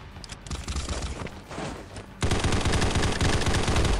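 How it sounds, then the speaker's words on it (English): Gunfire in the Combat Masters battle royale video game: rapid automatic bursts build up, then a denser, louder stretch of continuous shots rattles through the second half, close and without talk. "I don't know where this guy is shooting me from"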